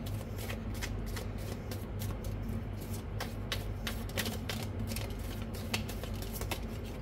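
Tarot cards are shuffled steadily in the hands, a close, continuous riffling patter of quick flicks and soft slaps with no pause for the full stretch.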